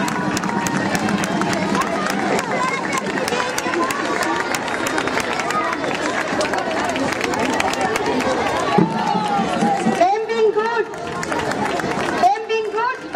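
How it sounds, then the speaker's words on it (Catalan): A festival crowd at a giants gathering in Els Pallaresos claps and cheers loudly, a dense continuous roar of applause and voices, with a host's amplified speech breaking in near the end. "Doneu-los un fort aplaudiment, com ells els mereixen."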